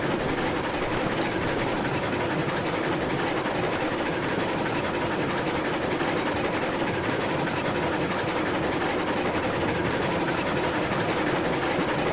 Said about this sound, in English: So we're literally just running trains tonight.